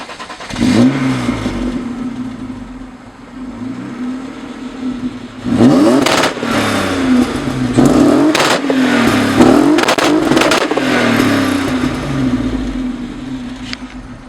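A Volvo fitted with two swapped BMW M52 inline-six engines revs loudly and close in several hard bursts, rising and falling over a rough idle, with no talk.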